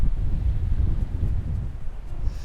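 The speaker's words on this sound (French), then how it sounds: "je me mets comme ça parce que là avec le vent, vous n'allez rien entendre" Steady low rumble and buffeting of wind hitting a microphone outdoors, loud and continuous throughout, with no voice over it.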